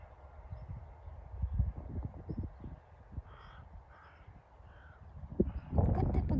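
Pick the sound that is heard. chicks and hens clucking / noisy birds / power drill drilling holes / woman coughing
noisy birds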